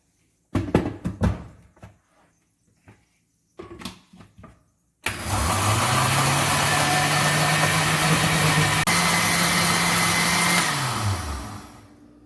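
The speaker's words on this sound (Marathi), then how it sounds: "आपण हे सगळं मिक्सर मध्ये वाटून त्याची चांगली बारीक पेस्ट करून घेऊया" Kitchen mixer grinder blending roasted masala with a little water into a fine paste for egg curry; a few clunks and clatters, then a loud steady motor whirr for several seconds that winds down at the end.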